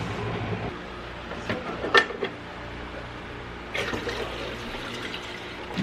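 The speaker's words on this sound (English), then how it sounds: "I'm gonna run one coffee through it first before I actually put a pod. So we'll run some hot water" A Keurig K-Cafe Special Edition coffee maker runs hot water through without a pod, giving a steady hiss and trickle with a few brief clicks and a louder gurgling surge partway through.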